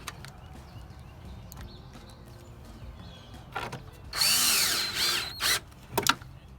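Power drill driving bolts back into a Honda Pilot tail light assembly, a couple of short whirring bursts near the end after quiet handling clicks and taps, close and fairly loud.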